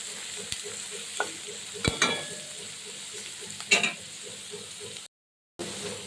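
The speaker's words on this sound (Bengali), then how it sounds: "পেঁয়াজগুলো যখন এই রকম ভাজা হচ্ছে" Onions sizzle in hot oil while a spatula scrapes and clatters against the wok a few times, then brief silence.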